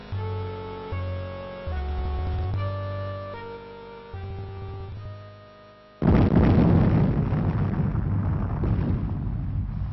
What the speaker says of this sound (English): at least this time you got to see the little tiny pixel-wide ship flying away before the explosion